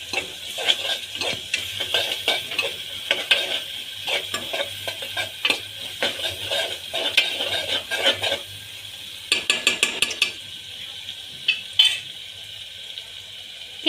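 Sliced onion stirred into a pan of hot oil for a Gujarati potato and giloda (ivy gourd) vegetable dish, giving steady sizzling with repeated scraping and clinking strokes of a spoon against the pan, close and continuous.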